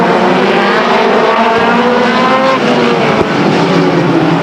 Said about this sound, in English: Out of turn 4 now comes the 83 car of Cervetti of San Francisco.